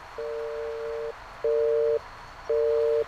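A phone busy signal inside the Russian Town Fight video game sounds as steady tone bursts, one long beep and then two shorter ones, clear and alone over faint background hiss.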